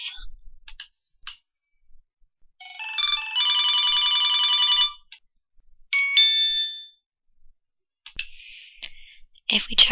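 A phone's text message notification alert plays during a vaccination schedule tracking demo: a few soft clicks, then a loud, bright ringing tone lasting about two seconds, followed by a shorter chime, with a brief voice near the end.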